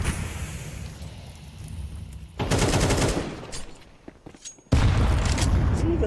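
AK rifle gunfire in a Counter-Strike match: dense bursts of automatic shots in two loud rattling stretches, with a brief lull between, over a background of game noise.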